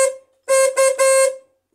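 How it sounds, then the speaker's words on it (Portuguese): A newly installed horn on a Kia Besta van blares loudly and close, first in a short tap, then after a pause in three bursts with the last held longest. "Então a buzina está ligada, já está tá praticamente instalada"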